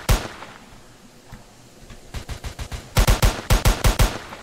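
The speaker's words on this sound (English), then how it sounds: "Oh, he's still shooting." Gunfire in the video game Emergency Response: Liberty County, a run of sharp, loud shots in a steady rapid rhythm that grows denser and louder toward the end, with no voices.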